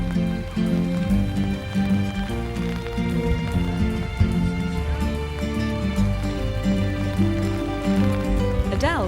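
Steady rain falling in Llandudno, a continuous wet patter under a dense layer of music that runs throughout, with no pause in the downpour.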